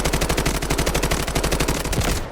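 AK-12 rifle in the shooter game Delta Force firing a rapid sustained burst, evenly spaced sharp shots in a loud continuous stream that cuts off abruptly near the end.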